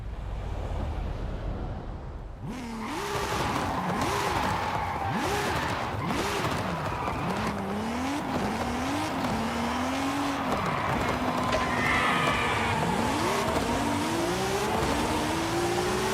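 A Toyota Supra in Forza Horizon 5 revs and shifts through rising and falling engine pitches while drifting, with tire squeal and skidding, loud and continuous after a quiet start.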